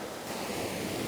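Sea waves wash over rocks beside a slipway at St Michael's Mount, a steady broadband roar of surf with wind rushing across the microphone, continuous and close with no voices.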